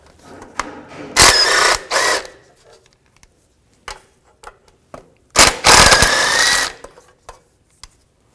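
Two bursts of a power tool spinning out bolts with a 17mm socket while removing the front catalytic converter on a 2010-16 Buick LaCrosse, each lasting about a second, separated by small clicks and clanks of handling.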